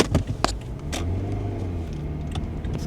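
A car being driven, heard as a steady low engine and road rumble from inside, with a few brief taps and knocks near the start.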